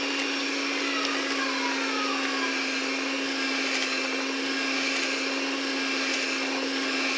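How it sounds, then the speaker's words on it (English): An electric mixer beats sugar cookie dough made with milk and almond, a loud, steady motor whir with a constant hum that holds unchanged from start to finish with no talking. "I'm going to go ahead and get everything mixed in. Mix it up really well."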